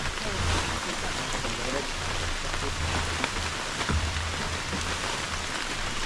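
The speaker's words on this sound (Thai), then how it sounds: "ฝนไม่มีท่าทีว่าจะหยุดตกเลยนะครับผม" Steady heavy rain falls continuously on a surface outdoors under a dark overcast sky, a dense even hiss with a low rumble beneath, and no other sounds stand out.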